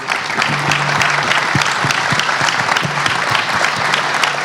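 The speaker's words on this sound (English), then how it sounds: "Give yourselves a round of applause, will you?" Loud, dense applause from an audience at the announcement that Phoenix's Footprint Center will host the 2027 NBA All-Star Game, sustained and steady throughout without fading.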